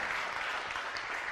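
Audience applause after a spiritual healing talk, a steady dense wash of clapping that fills the whole short stretch at moderate level with no voices over it.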